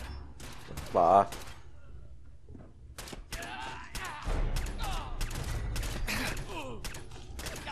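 Fallout 4 gunfire comes in sharp, intermittent bursts and volleys, with mechanical clicks and a voice speaking briefly between shots.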